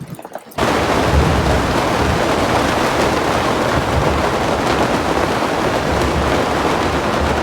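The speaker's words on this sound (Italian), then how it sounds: "sta piovendo veramente tantissimo" Heavy rain pours steadily onto the slopes of Acatenango volcano in Guatemala, a dense, loud, unbroken roar that begins abruptly after a brief quiet moment and holds constant to the end.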